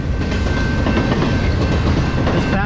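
A long train rolls past close by in a loud, continuous rumble. Rhythmic clickety-clack from the wheels on the rail joints runs under a steady roar of passing wagons, and no one speaks.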